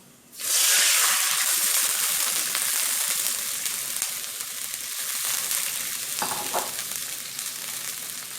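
Water hits a hot wok of stir-fried noodles with a sudden loud sizzle. A steady hiss of frying follows and continues throughout, with faint scraping and stirring.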